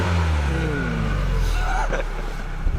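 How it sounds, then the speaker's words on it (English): A stock Mazda Miata with its factory exhaust revs up close by, the engine note climbing and falling in steady pulls with a broad low rumble throughout. "Stock Miata. So stock. Listen to that stock exhaust. Oh, engine noise."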